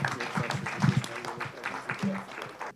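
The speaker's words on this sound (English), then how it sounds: "applause for my guests" Moderate applause for panel guests at a business conference event, scattered claps mixed with voices and murmuring talk close by, fading toward the end.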